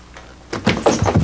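A door creaks and thumps as someone uses it for upside-down chin-ups, a few loud knocking strikes in quick succession after a brief quiet moment.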